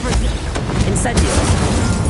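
Whooshing burst of the Incendio fire spell in Hogwarts Legacy, a short flare of flame and crackle among layered game effects, moderately loud and continuous.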